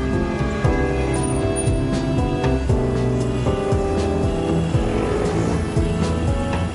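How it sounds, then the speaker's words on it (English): Car traffic in Paris rumbles loud and continuous, engines droning and revving as vehicles pass close by. "And there are lots of cars."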